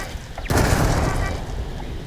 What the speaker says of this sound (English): As with most laser weapons, the faster you fire, the more you miss.